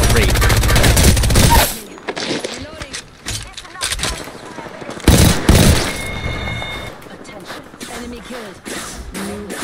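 Automatic gunfire in Apex Legends erupts in dense bursts at the start and again midway, loud and close, with shorter shots and game effects scattered between while players talk over the fight.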